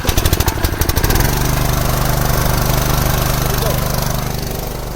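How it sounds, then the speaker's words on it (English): An air compressor used for winterizing a sprinkler system starts with a chugging pulse, then settles into a loud, steady motor drone that holds to the end. "we start the other compressor"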